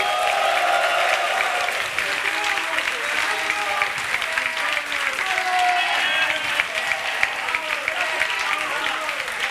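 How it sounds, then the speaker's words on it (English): A large crowd at an esports event applauds and cheers steadily throughout, a dense wash of clapping with shouts mixed in, loud and continuous, with speech faintly underneath. "people are cheering like you just won"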